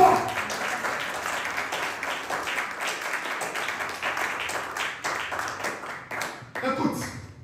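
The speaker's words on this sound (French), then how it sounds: "Est-ce que tu peux l'acclamer très fort?" A church congregation applauds and cheers for Jesus, steady crowd clapping of moderate loudness throughout, with voices over it and a swell near the end.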